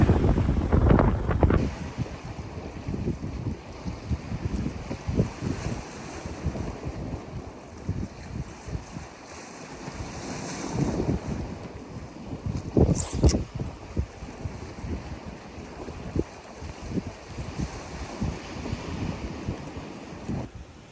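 A crosswind gusts across coastal rock ledges at Fontygary during an evening fishing trip, buffeting the microphone with rumbling bursts over a steady sea-like hiss.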